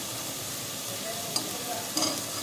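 Beef sizzling in about two tablespoons of coconut oil while being stirred for palak gosht, a steady close frying hiss broken by a couple of sharp utensil clinks, with no talking.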